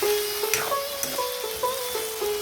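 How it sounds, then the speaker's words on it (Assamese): Finely chopped papaya flowers and small potatoes sizzling in a pan with a soft steady crackle, and a spatula scrapes and stirs now and then. "এইবাৰ অমিতাৰ ফুল আৰু সৰু আলু মিহিকৈ কাটি এনেদৰে ভাজিবলৈ লৈছোঁ"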